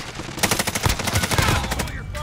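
Loud automatic gunfire from the video game Call of Duty: Modern Warfare, a rapid, steady stream of close shots rattling without a break over a busy game soundscape.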